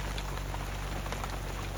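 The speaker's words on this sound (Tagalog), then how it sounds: "Inuulan po kami dito sa may bahagi ng kabundukan." Steady rain pours down on a mountain campsite near Cebu, a dense, even hiss of drops on surfaces that continues unbroken and fairly close, with no voices.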